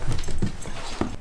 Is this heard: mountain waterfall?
no